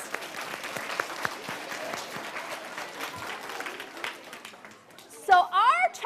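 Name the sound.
audience applause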